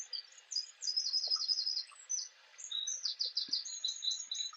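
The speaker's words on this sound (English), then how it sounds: "I'm going to pause the sound of the birds in the waterfall." Birds chirp and tweet in quick bright bursts over a soft steady wash of falling water from a waterfall, a close, clear outdoor nature recording without talk.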